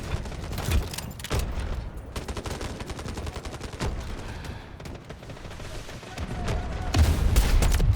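Gunfire in the shooter game Delta Force, with rapid bursts of automatic rounds interspersed with heavier single shots, loud and close, continuing steadily for several seconds.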